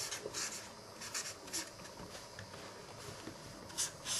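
Drawing a balance on a board, with faint, close scratchy strokes in short irregular bursts against a quiet background.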